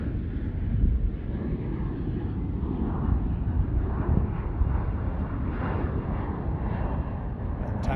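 A fixed-wing airliner lands at Charlotte Douglas International Airport, its engine roar a broad continuous rumble with wind buffeting the microphone, loud and steady throughout with no voices.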